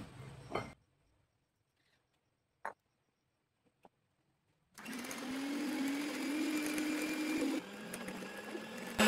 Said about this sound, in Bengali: আইসক্রিমের ব্যাটারটা এখানে আমি দিয়ে দিচ্ছি, দিয়ে আবার আমি বিট করে নেব